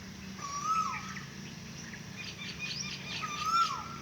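Asian koel calling twice, clear rising whistled notes repeated a few seconds apart at moderate distance, with faint background chirps from other birds.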